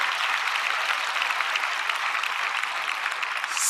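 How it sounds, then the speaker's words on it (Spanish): A church congregation applauds together in a dense, even wash of clapping, sustained and fairly loud for several seconds and swelling slightly at the end. "Vamos a aplaudir todos juntos."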